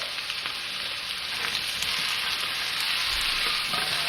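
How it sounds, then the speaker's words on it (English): Potatoes sauteing in a pan after onions, a steady soft sizzle with occasional stirring scrapes and clicks, close and continuous with no talking. "Add the potatoes. Give this a saute, just a quick saute."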